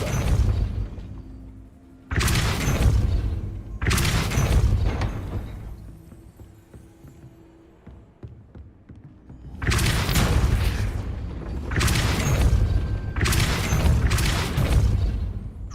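Repeated forceful magical blasts from the Depulso spell in Hogwarts Legacy, heavy whooshing booms arriving in an irregular series with quieter pauses between the casts, several of them in quick succession near the end.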